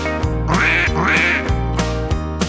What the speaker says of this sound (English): the ducks go